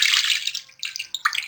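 Water splashes and gushes as it is poured over raw chicken wings in a bowl to wash them, a close, bright rush that stops briefly and then pours again.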